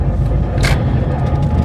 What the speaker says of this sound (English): I'm sorry about my car noises